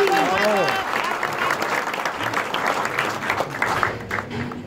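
An audience applauds at a book signing event, a brief voice at the start giving way to dense, sustained clapping from a room full of people.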